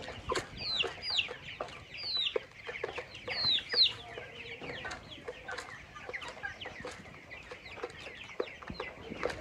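Rooster on a poultry farm, clucking in a steady run of short calls with a few higher squawks, close and moderately loud amid other fowl chatter.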